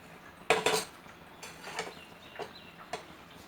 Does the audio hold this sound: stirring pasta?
yes